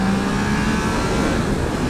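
A Triumph Trident 660 motorcycle accelerates in third gear, its engine a steady, loud, close drone that holds level for two seconds with no voices.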